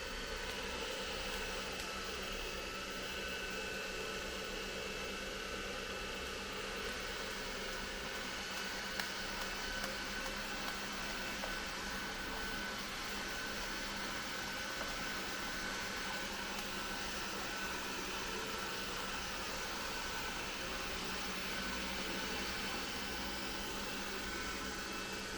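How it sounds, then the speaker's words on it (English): A robot vacuum cleaner named Rosie runs indoors with a steady, faint whirring hum that holds at an even level throughout. "we've had Rosie, the vacuum cleaner, going for a couple of days"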